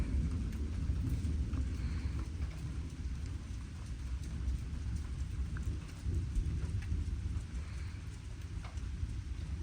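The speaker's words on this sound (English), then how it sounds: "Rain day." Steady heavy rain hisses continuously, with a low rumble of thunder rolling underneath, no voices.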